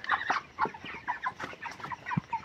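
Broiler chickens 32 days old in a poultry farm cluck continuously, a dense overlapping chorus of short, soft calls from many birds at moderate distance.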